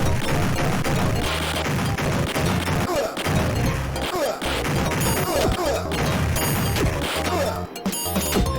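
Loud, continuous video game action in a hostage-rescue shooter, with dense bursts of gunfire, crashes and impacts packed together and barely a pause throughout.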